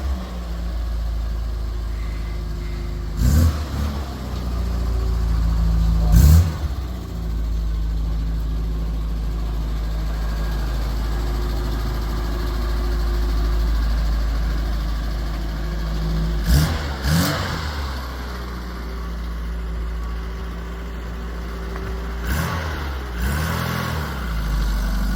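Classic Mini 1100 engine on a test drive, a steady low engine drone from inside the car with several brief louder bumps and revs along the way.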